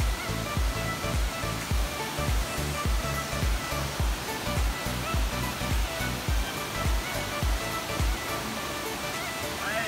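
A waterfall in the Daintree rainforest gives a loud, continuous rushing roar with a faintly pulsing low-end throb running underneath, steady from start to end without speech.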